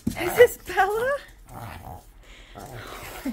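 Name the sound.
dog snorting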